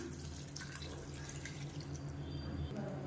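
Water poured into a cooking pot of sambar with salt and sambar powder, heard as a soft, steady trickling splash that runs quietly and alone.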